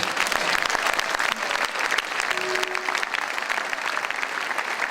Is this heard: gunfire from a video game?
no